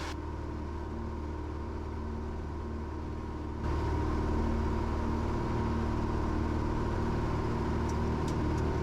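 Small airplane engine climbing out after takeoff from a ridge-top grass strip, a steady droning roar that jumps louder partway through as power builds, with no talk.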